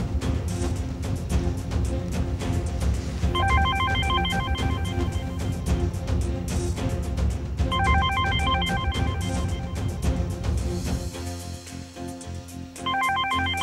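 A telephone rings in repeated bursts over a loud, dense music bed in a Turkish TV drama scene, the ring pattern recurring about every four seconds and fairly prominent but partly blended with the score.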